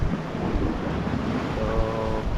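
Strong sea current at a rising high tide washes along a sandy shore fishing spot, a steady near roar of surf and water mixed with wind buffeting the microphone.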